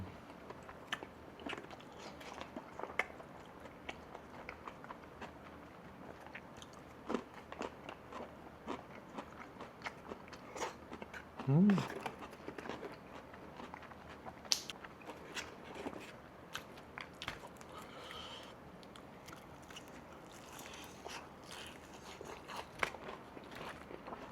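Crunchy fried chicken being bitten and chewed close up during a late-night office meal, a steady run of soft crackling crunches with one louder bite near the middle, with no talk.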